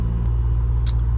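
A neighboring semi truck's engine rumbles steadily and loudly at close range. A brief airy hiss, like an air compressor purging, cuts through the low drone near the end.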